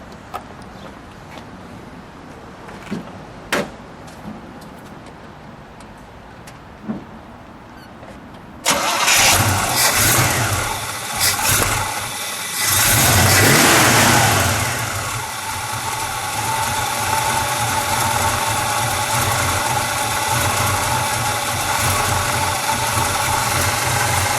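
A white 1965 Chevrolet El Camino with a 327 V8 and four-speed, nonstandard tailpipe: a few faint clicks, then the engine cranks and fires loudly, revs up and settles into a rough, rumbling idle, close by.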